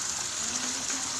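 Tap water runs steadily while clothes are rinsed by hand, a continuous close rushing gush with a faint tonal hum underneath.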